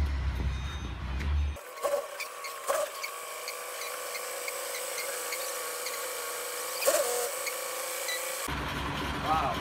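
A large truck backs in to offload 14,000 kilograms of gravel at a pool being turned into an eco pond, with a steady engine rumble, repeated reversing beeps and occasional clanks; a person talks over it at times.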